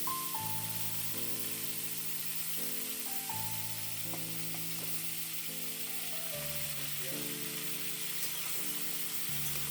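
Marinated crab frying in hot mustard oil in a karai, a steady broad sizzle running throughout beneath louder background music.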